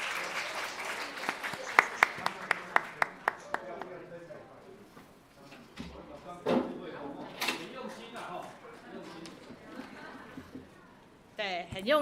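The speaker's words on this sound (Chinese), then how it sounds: "掌声" A church congregation at a Sunday worship service claps in scattered, uneven bursts, with sharp individual claps standing out nearby, and voices talk over and between them while a few knocks and shuffles sound around the room.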